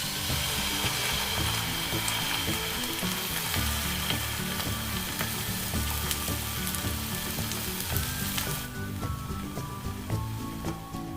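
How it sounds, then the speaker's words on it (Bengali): A spoonful of batter fries on an oiled tawa for a fasting-day snack, producing a loud, continuous close-up sizzle with crackling bursts that thins out slightly toward the end. "তাওয়াতে তেল লাগিয়ে নিলাম। কম আছে 1 চামচ ব্যাটার দিলাম।"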